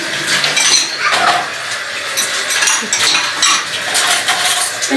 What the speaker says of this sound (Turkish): Ben şöyle bulaşıklarımı alayım sana.